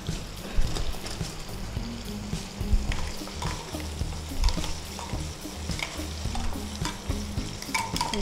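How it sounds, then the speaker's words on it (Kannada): Onions frying in a kadai until brown for achari paneer: an uneven sizzle with frequent knocks and scrapes of a spatula stirring against the pan, heard close and without talk. "ಆನಿಯನ್ ಫ್ರೈ ಮಾಡ್ತಾ ಇದ್ದೇನೆ. ಅದು ಸರಿ ಬ್ರೌನ್ ಆಗಬೇಕು."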